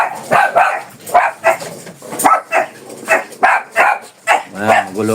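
A dog barks in repeated, fairly loud bursts with a roughly steady rhythm, mixed in with people talking nearby indoors.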